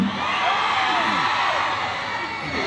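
A large crowd shouting and cheering, a loud, sustained roar of many voices with scattered whoops rising above it.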